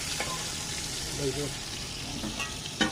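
Ground green chilli paste sizzles and fries steadily in a hot, smoking pan, with occasional scraping stir strokes and a faint voice in the background.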